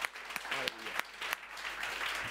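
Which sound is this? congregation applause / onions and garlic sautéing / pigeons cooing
congregation applause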